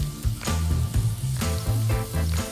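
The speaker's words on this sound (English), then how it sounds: "When those spices hit the dry pan, it really wakes up all those flavors and toasts them" Whole spices toasting in a dry pan for Texas-style veggie chili give off a steady close sizzle and crackle, with occasional stirring scrapes across the pan and no talking.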